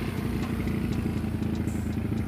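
A freshly built carbureted 150cc Honda Beat scooter engine runs at a steady idle on its first start, with a close, continuous low putter and light mechanical clatter throughout.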